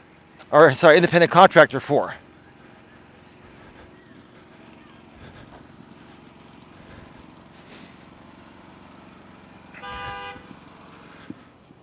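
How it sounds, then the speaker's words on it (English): A car horn outside at night blares in a burst of several quick honks, then a long quiet stretch of faint ambience before a second, softer distant honk. "So many people honking tonight, man."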